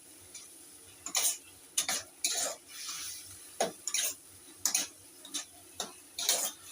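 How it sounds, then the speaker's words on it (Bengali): Spice paste being stirred and fried with water in a pan for a Bengali shankar fish curry, with repeated scraping clinks of a spoon against the pan in an irregular rhythm, close and fairly loud, no talk. "জল দিয়ে মশলাটা একটু কষবো ভালো করে।"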